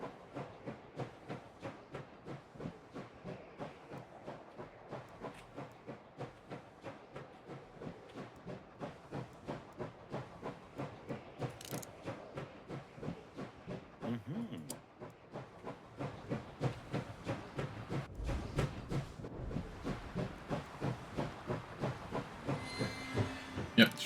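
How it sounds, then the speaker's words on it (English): A train in the video game Last Train Home, chugging with a steady rhythmic pulse of steam-like hisses that slows and grows louder toward the end as the train comes to a stop. "Yep, train stopping."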